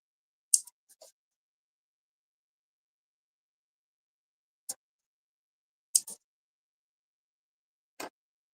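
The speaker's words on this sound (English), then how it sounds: "So we can go ahead and snip all those pieces before we box the corners" Scissors snip through fabric pieces for a handbag: a handful of short, sharp cuts spaced irregularly across otherwise quiet surroundings, with a quick double snip near the start.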